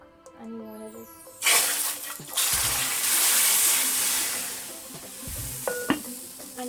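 A tempering of curry leaves and jeera is poured into a pot of Trinidadian dhal, bursting into a loud, hissing sizzle that gradually softens, with a few clinks toward the end.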